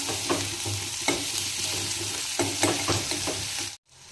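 Onions sauté in a pan for instant poha, giving a steady close sizzle broken by the scrape and clatter of a spoon at irregular intervals, then a brief drop to silence at the end.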